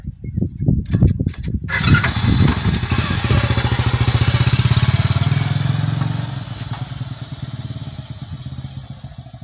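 A motorcycle engine starts with a few sharp bursts, then runs steadily and loudly up close for several seconds before easing off, on a ride to a village shop with a tank tied onto the bike.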